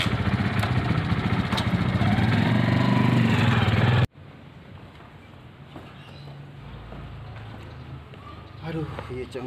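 A motorbike engine runs close by with a steady mid-pitched drone that cuts off abruptly partway through, leaving a quieter background with faint birds.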